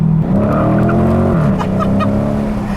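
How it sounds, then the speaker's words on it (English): A 2016 Dodge Challenger R/T Scat Pack spins its skinny rear tires, with a loud, steady engine roar and a rising tire squeal that carries through the whole short burst. "It just loves lighting up those rear tires, as you would expect."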